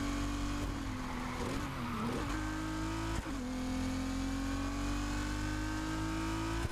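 A car with a hybrid engine in the racing video game Need for Speed Heat holds a steady, loud engine drone that dips briefly and then climbs again after a gear change, with no talk.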